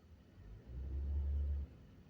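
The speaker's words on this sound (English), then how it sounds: "Big old truck. Ford." A big Ford truck rolls past outdoors, a deep low rumble swelling over about a second and then cutting off fairly abruptly, with no talking.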